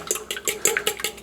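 Raw eggs being beaten with a fork in a bowl for scrambled eggs: quick, rhythmic clinks and sloshing strokes, about seven in just over a second, close and clear with no talking.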